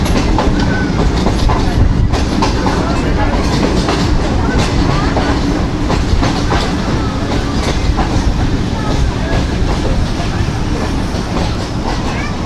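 A train passes through Mandi Bahauddin railway station in Pakistan. It rumbles loud and close with continuous clickety-clack of wheels over rail joints for the whole stretch.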